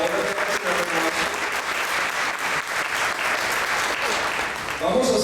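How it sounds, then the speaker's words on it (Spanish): Sustained applause from a congregation celebrating at a Catholic Charismatic Renewal gathering, dense and steady for several seconds, with a voice rising over it near the end. "un aplauso al Señor por la obra de la renovación"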